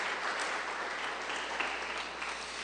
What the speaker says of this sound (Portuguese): Dê uma salva de palmas para o Senhor Jesus então, gente